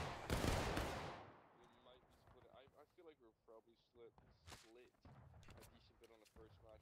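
A musket volley in the Civil War shooter War of Rights at Antietam: one loud ragged blast of massed rifles at the start, followed by shouted commands and talk over distant scattered shots.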